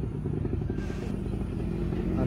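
A tuned Honda Titan 150 motorcycle bored out to nearly 250cc idles nearby in a shop, giving a steady low rumbling engine drone that slowly grows louder, with a faint clatter on top.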